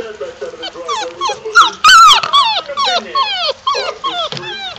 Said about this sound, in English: Puppy is whining